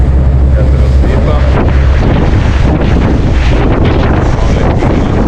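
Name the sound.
wind blowing at dawn near the coast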